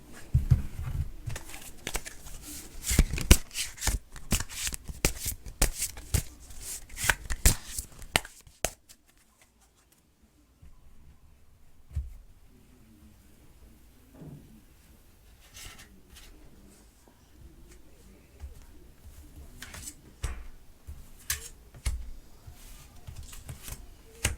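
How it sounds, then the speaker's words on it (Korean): Tarot cards being shuffled and drawn: a dense run of papery crinkling, riffling and tapping for the first several seconds, then a near-silent pause, followed by quieter scattered slides and taps as cards are laid out, with no voices. "트럼프 대통령을 생각하면서 5장 타로 카드 뽑아봤습니다"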